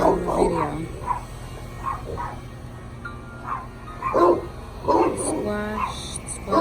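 Dogs bark repeatedly in the background of a garden, mid-distance yips scattered across the stretch while a person talks over them.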